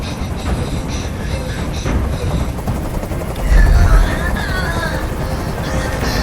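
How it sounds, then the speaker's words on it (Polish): Helicopter hovering in the video game Detroit: Become Human, a steady loud rotor drone with a swelling thump midway, under tense scene ambience and voices. "Nie mogę już znieść tego hałasu! Każ swoim odwołać helikopter!"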